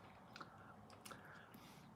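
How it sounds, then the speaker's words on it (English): Faint crunching bites of dehydrated umeboshi pieces in Kyoto cotton candy, a few soft crisp chews spread irregularly, close but quiet, with no talking. "It's like dehydrated umeboshi."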